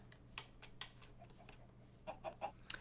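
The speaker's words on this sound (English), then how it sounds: "there are chickens back this way" Soft, scattered Minecraft chicken clucks come in short bursts over a faint steady hum, quiet and somewhat distant.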